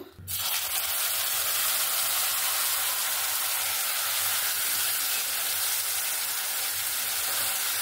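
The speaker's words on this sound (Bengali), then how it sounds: "এখানে আমার বাদ বাকি যতটুকু তেল আছে আমি ওই তেলের মধ্যেই এই কচুর লতিটা দিয়ে দেব" Taro stolons (kochur loti) drop into leftover hot oil in a pan just used for frying lentil dumplings, setting off a sudden, loud, steady sizzle that stays close and continuous with no talking.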